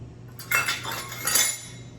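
A wooden spoon scraped against a whisk or bowl to clear off thick ricotta for a vanilla ricotta cheesecake, two short scraping, clinking strokes close up over a low steady hum.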